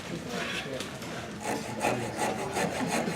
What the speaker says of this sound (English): It's called a needle rasp round 160 millimeter.